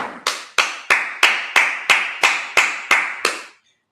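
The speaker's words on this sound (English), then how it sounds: "let's clap it up." A congregation at a Sabbath service claps in unison, with ten sharp, evenly spaced claps about a third of a second apart, loud and close, then silence.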